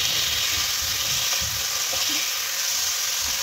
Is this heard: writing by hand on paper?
no